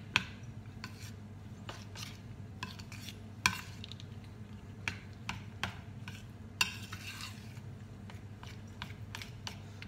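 Melted chocolate stirred together with coarsely chopped pecans in a bowl, scraping and rubbing strokes with occasional sharper knocks of a utensil against the bowl, close and steady over a low hum, no talk.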